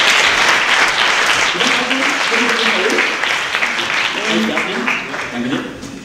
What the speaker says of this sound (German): Und da bekommt ihr beide mal einen riesen Applaus